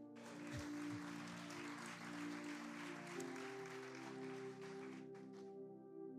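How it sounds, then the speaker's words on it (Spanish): A church congregation applauds during a Spanish-language service, a soft continuous patter of clapping sitting under a sustained organ or keyboard chord, with a sharp hit at the very end. "Le doy un aplauso."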